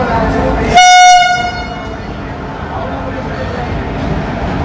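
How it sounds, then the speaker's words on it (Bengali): A short four-coach passenger train on the brief Tin Pahar to Rajmahal line in India sounds one loud, sustained horn blast lasting about half a second, over steady rumbling rail and crowd noise with people talking nearby. "এটা হচ্ছে ভারতের সবচেয়ে ছোট রুটের ট্রেন"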